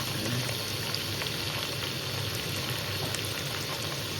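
Ivy gourd (dondakaya) frying in a generous amount of oil, giving a steady, dense sizzle that continues unbroken and fairly close throughout, with no voices.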